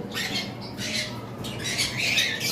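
Pet parrots, sun conures or lovebirds in a breeding setup, give repeated harsh, high squawks and chatter in bursts across the clip, fairly close and steady in loudness.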